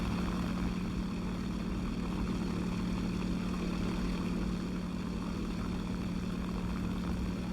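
A propeller aircraft engine in a video game drones steadily and loudly throughout, a constant low hum with a strong tonal band and no talking.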